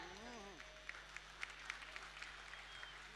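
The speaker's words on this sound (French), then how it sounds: "que je vous demande d'applaudir bien fort" An audience applauds the orchestra at the 21st Nuit des Étoiles gala opening, faint scattered clapping with a few sharper claps, while a voice is heard briefly at the start over a low steady hum.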